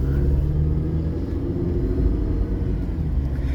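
Continuous low rumble of a car engine while driving in Accra, Ghana, steady and close throughout with road noise and no speech.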